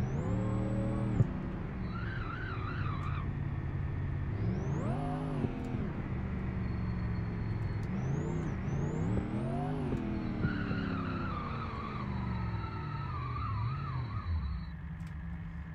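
A drag car with destroyed front brakes skids with long tire squeals as its engine repeatedly revs and drops, a continuous loud roar with no talking.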